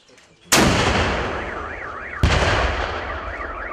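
Two loud, sharp gunshots ring out about two seconds apart, each trailing off in a long reverberant decay. They come from weapons fired at a shooting demonstration, and a warbling alarm-like tone rises between and after the shots.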